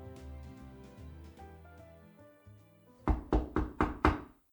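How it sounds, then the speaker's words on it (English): Five firm knocks on a door land in a quick, even series, loud and close, following a soft musical melody in a children's Christmas gingerbread cartoon. "Oh, I heard a knock on the door."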